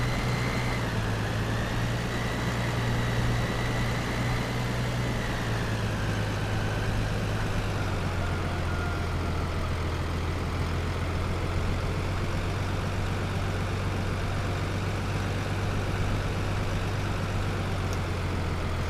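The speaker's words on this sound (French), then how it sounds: "je vais ranger ce petit tracteur ici les amis, avec cette benne" The small tractor engine in Farming Simulator 2013 runs with a continuous low drone and hum. It shifts pitch slightly at about five seconds and stays steady, with no talk.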